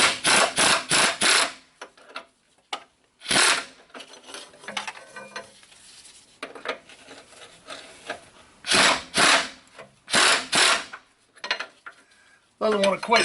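A 13/16 wrench working a rusty idler arm bracket bolt on a 2002 Chevy 2500HD: bursts of harsh metallic scraping and clanking, the tool slipping and grinding against corroded steel, separated by quiet gaps and faint handling noise.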